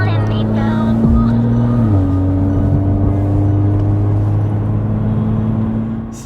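A Toyota Supra's engine, coded to start in sport mode, settles into a loud, steady close idle with a low droning hum and a brief rise in pitch during startup.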